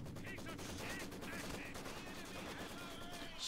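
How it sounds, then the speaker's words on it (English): Artillery and gunfire from a 120mm mortar and battle in Company of Heroes 2, a dense, continuous barrage of booms and shots filling the whole stretch, with a voice talking over it. "may be a little bit too much for one mortar to handle"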